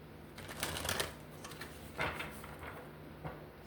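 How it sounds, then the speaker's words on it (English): Tarot cards being shuffled by hand, a few quick riffling bursts of papery flutter separated by short pauses, close and fairly quiet. "And shuffle."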